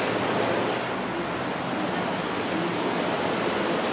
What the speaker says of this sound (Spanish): Es que el viento es muy fuerte, ¿eh?